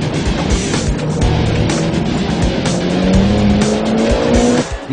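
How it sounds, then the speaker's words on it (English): A Mitsubishi Evo X FQ-400 launches hard in a timed slalom from a standing start, engine revving loudly with rising pitch through gear changes while tires squeal and skid, close and intense throughout. "First up, the Evo. Christ, this thing's quick off the line."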